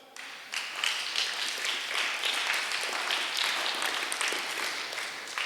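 A church congregation breaks into sustained applause during a Sunday service, a dense, steady wash of many hands clapping that starts abruptly after a short quiet moment and carries on without talk.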